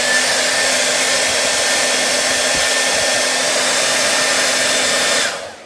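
A hair dryer blows hot air onto a Funko Pop box, a loud, steady, close whir with a constant tone that runs without a break and cuts off near the end. No one speaks.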